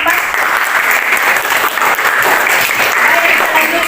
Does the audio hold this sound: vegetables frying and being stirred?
no